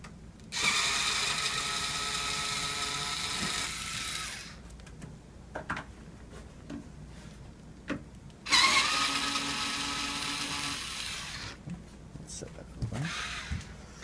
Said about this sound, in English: Now we're going to remove the back panel of the safe door by undoing the screws.